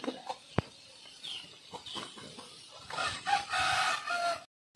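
Free-range chickens and ducks cluck and call near a hut in a rural Lagonoy, Camarines Sur yard, with scattered short clucks, a sharp knock and denser bird chatter building toward the end.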